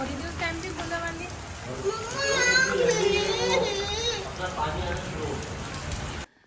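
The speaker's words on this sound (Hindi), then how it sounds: "तेज हो रही है, मैं बोल रही हूँ आपसे बारिश हो रही है, आप सुन ही नहीं रहे।" Rain falls steadily with a broad hiss that grows heavier partway through, while voices and children talk and call out over it.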